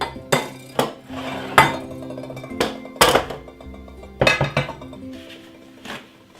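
A metal bun baking tray for Jamaican Easter bun is handled in a kitchen, giving a series of sharp clanks, knocks and ringing metallic clinks, each loud strike fading with a short resonance.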